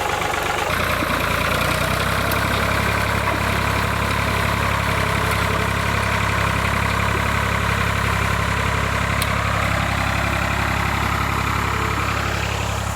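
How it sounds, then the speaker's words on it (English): An LS diesel tractor engine runs at a steady idle with a constant low rumble and vibration throughout, close by and unchanging. "And now I'm gonna go hop on the fancy LS tractor right there."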